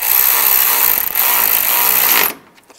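A power driver whirs loudly and continuously for about two seconds while driving screws into the upper edge of a 2010–2015 Toyota Prius bumper, briefly dipping mid-run, then stops abruptly into quiet.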